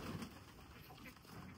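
Pigeons coo softly at a farm house, a low faint murmur of birds nearby under a steady background hiss.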